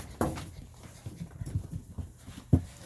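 Puppies pant, whimper and scuffle close by at low volume, with two sharper bumps or yips and soft pattering movement throughout.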